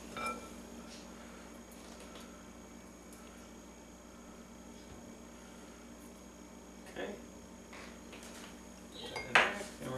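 Eggs, milk, melted butter and honey are stirred together in a bowl, making soft, faint utensil scrapes and clinks over a steady background hum, with a couple of louder knocks near the end.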